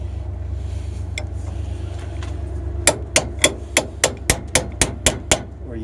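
A hammer strikes vice grips clamped onto a leaf spring of a 2002 Nissan Xterra, first a few light taps, then about ten loud, evenly spaced metallic blows, close and without talk.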